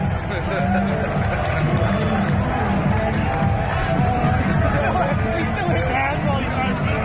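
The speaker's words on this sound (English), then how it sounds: "let's listen to the crowd" Arena crowd at UFC on Fox 26, heard during a fight replay. A loud, continuous roar and babble of many voices fills the whole stretch, with close talking mixed into the din.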